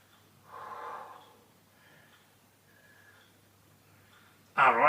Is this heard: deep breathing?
yes